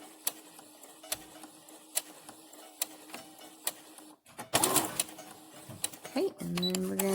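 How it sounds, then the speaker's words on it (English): A sewing machine back stitching a fitted pocket face mask: evenly spaced ticks give way to a short burst of fast needle stitching, then a steady tone, with someone talking. "turn my work, and back stitch."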